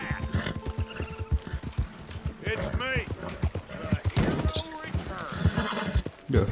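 A horse in Red Dead Redemption 2 neighs and whinnies with a rising, wavering call, close and clear, over steady clip-clop hooves, while someone talks throughout.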